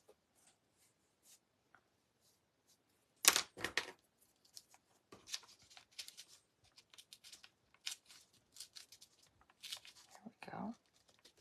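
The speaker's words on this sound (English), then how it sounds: "I'm going to start tearing. And hopefully I have this wet enough that it will nicely tear." Wet paper being torn by hand, as a template circle is shaped, comes through as a sharp rip followed by scattered crackly tearing bursts and rustles, moderately close, with quiet gaps between them.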